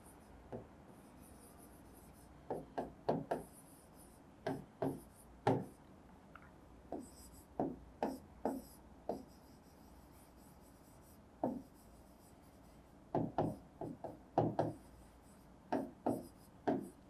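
Chalk or marker writing on a classroom board, a series of short scratchy strokes in irregular clusters with quiet gaps between them, faint and close.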